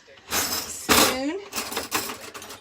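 A spoon clinks and scrapes in a pan while gravy is stirred for chicken fried steak, giving several close metallic knocks and scrapes, with a person talking over it.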